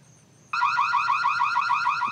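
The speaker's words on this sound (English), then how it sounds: "Bird feeder also has an alarm, which will scare away squirrels and other animals." A solar-powered bird feeder's alarm for scaring off squirrels switches on abruptly, a loud, rapidly warbling electronic siren that holds steady at close range.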